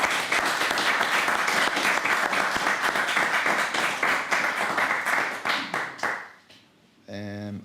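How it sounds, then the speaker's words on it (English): Round of applause from the audience at a traditional singing session, close, dense clapping that thins into scattered claps and fades out, followed by a brief tonal sound at the end. "One more big round of applause."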